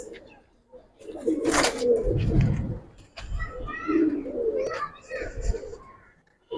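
A Giribaz pigeon gives several soft, throaty coos in close succession, fairly near and moderately quiet, with faint background voices.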